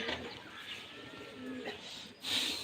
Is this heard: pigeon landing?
yes